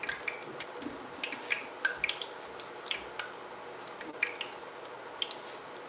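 Small pinches of bake dough bubble and crackle in hot frying oil while St Lucian fried bakes are made, giving scattered light pops and ticks over a soft steady sizzle, with no talking.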